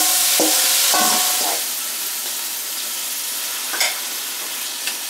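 Lime juice, garlic and artichoke hearts with a little oil sizzle steadily in a pan, a loud hissing fry with a few clinks and scrapes of stirring near the start.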